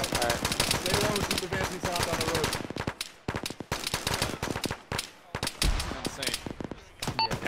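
Arma gunfire crackles in dense automatic bursts, first heavy and continuous, then breaking into scattered individual shots with brief pauses.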